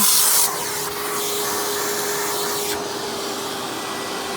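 A Hoover PowerMax Supreme 850 S3609 canister vacuum cleaner runs close and loud with a steady whining roar and a constant tonal hum, a brief louder burst at the start, then an even drone throughout.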